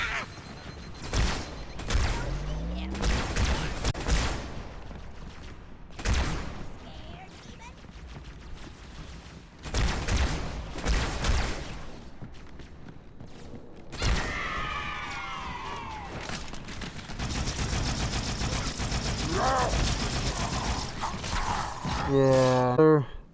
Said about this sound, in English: I don't know what kind of weak ass beam rifle I'm using here